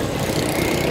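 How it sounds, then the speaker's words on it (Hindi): Motorbike engines hum and idle in busy street traffic, a close, loud, continuous drone with no breaks and no talk. "ट्रैफिक भी है, बाइक भी चला रहे हैं।"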